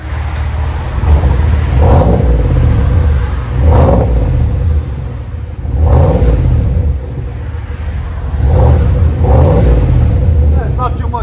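A 2019 GMC Sierra pickup with a 6.2L V8 and a Flowmaster Flow FX dual exhaust revs hard in four or five deep, booming bursts about two seconds apart, each rising and falling over a steady idle rumble.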